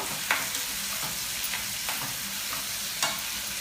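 Finely chopped onion, slit green chilies and ripe red tomato fry together in a pan, giving a steady close hiss of sizzling oil with occasional soft stirring scrapes.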